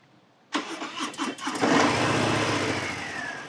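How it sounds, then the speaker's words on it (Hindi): A 2022 Harley-Davidson Fat Bob motorcycle's big-block engine cranks with a few sharp pulses, then catches and settles into a loud, deep, rumbling idle up close. "Big engine, big block start होगा।"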